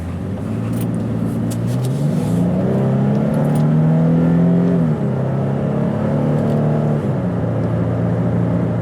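A Nissan Frontier Pro-4X pickup engine revs while accelerating, a close, steady drone that climbs in pitch, drops back at a shift and rises again, with no talking.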